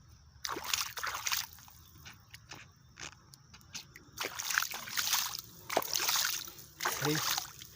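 Close, irregular sloshing and splashing as something is washed by hand in water, in bursts separated by short pauses, with a voice talking at points.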